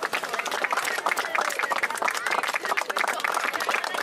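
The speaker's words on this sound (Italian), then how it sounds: "Facciamo un applauso ad Ale Senso" Audience applause at the inauguration of the artwork "La porta del mare" in San Vito Lo Capo, a dense, steady clapping from a crowd lasting throughout, fairly loud and continuous.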